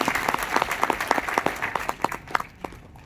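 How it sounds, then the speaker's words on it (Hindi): Audience applause at a farmers' rally in Nagpur, a burst of many hands clapping close and loud, fading out after about two and a half seconds with no talk over it. "सबने ताली बजा के स्वागत करके"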